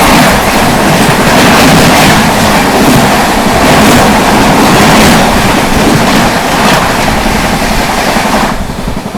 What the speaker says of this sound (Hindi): दोस्तों सामने से आ रही है LTT राजगीर जनता एक्सप्रेस।